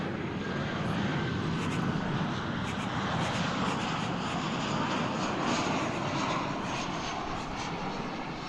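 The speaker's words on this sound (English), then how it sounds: "It's a 737-800 American Flight 378 coming in from Central America." American Airlines Boeing 737-800 arriving from Belize City at Dallas Fort Worth airport, a steady, loud broadband engine roar that holds evenly throughout without breaks.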